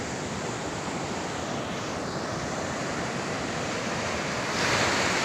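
Surf waves breaking steadily at a beach in La Union, a broad continuous roar of rushing water with wind buffeting, loud and near, swelling slightly louder at the very end; no talking.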